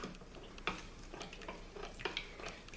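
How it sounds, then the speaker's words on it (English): Faint clinking and scraping of a utensil against a pan as cornstarch is stirred into broth, in light irregular taps with no talk. "Stir it in until the cornstarch dissolves."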